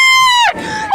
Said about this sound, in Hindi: चीख पुकार की आवाजें आप सुन पा रहे हैं